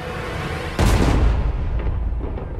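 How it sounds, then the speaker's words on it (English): A single loud boom hits suddenly, a cannon shot at a fireworks display, followed by a rumbling, fading echo with faint crackles. "Oh, the cannons."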